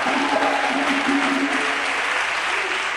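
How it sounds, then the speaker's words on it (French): A church congregation claps and cheers in acclaim for Jesus Christ, a dense, steady wash of applause filling the whole moment at close range and holding its level throughout. "Acclamez pour Jésus-Christ"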